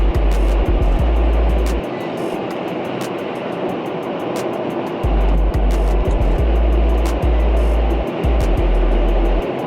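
Inside a moving car on a road trip home to Chattanooga, a steady road roar fills the cabin, with deep low rumbles that cut in and out and occasional soft thumps from the road.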